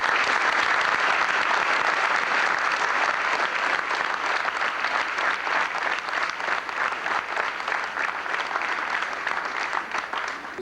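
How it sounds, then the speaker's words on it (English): A banquet audience gives sustained applause for award recipients at a football awards dinner, a dense, steady wash of many hands clapping throughout, loud and close, gradually thinning slightly toward the end. "give these gentlemen one round of applause"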